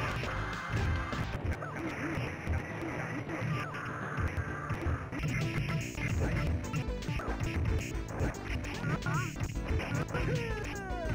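Loud cartoonish duck quacks from birds in The Eye of Typhoon, a South Korean fighting game, chatter over a dense, busy mix of game music, crashes and hit effects throughout.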